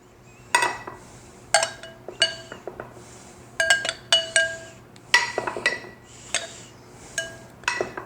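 A spoon clinks against a baking dish while custard mixture is ladled over pieces of bread before baking; close, bright, irregular taps come in small clusters over a faint steady hum, with no talking.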